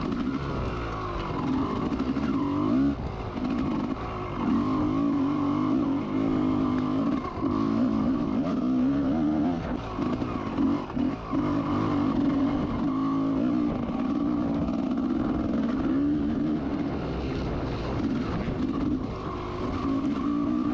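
A vintage motorcycle at an AHRMA race in Frackville races along a trail. Its engine drones loud and close for the whole stretch with small shifts in revs and no talk.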